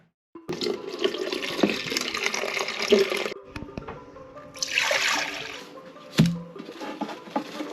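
Water pours into a glass in a morning kitchen, a few splashing runs with brief pauses, clinks and handling noises between, fairly quiet and close.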